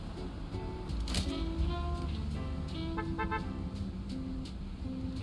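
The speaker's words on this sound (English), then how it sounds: "They honked at me like they did" Car horns toot several times over steady street traffic and engine rumble in the News Tower city-management game, moderately loud against a constant background hum.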